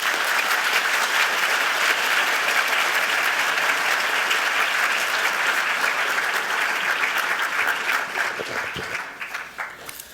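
Sustained applause from a lecture hall audience welcoming a speaker, steady dense clapping throughout that thins and fades toward the end.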